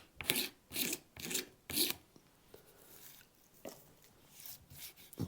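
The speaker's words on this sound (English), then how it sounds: "I'm just going to take a standing knife blade in this case and start just kind of scraping that down." A knife blade scraping along a wooden Telecaster guitar fretboard, following the board's radius: four strong rasping strokes in quick rhythm up close, then softer, sparser scrapes.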